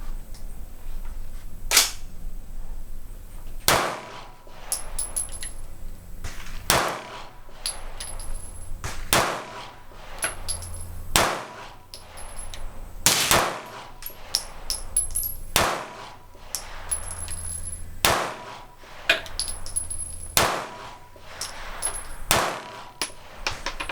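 Pistol shots fired one after another from a 10-round magazine while comparing a Smith & Wesson M&P Shield Plus and a Ruger SR9c, loud sharp cracks at an irregular pace over roughly twenty seconds with no talking.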